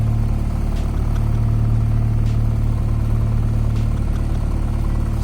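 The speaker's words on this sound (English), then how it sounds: "I'm gonna just let it sit here and idle for a minute" A Honda Civic with an H2B engine swap idles steadily, giving a constant, loud, even low rumble with a light mechanical clatter and no rise or fall in revs, with no voices over it.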